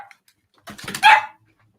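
A dog lets out a sharp, loud bark burst at close range, set off by a ringing telephone in a home office, with a couple of quick barks running together before it goes quiet.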